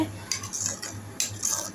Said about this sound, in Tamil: இப்போ நல்லா கலந்து விட்டுட்டு நல்லா கொதிக்க விடுங்க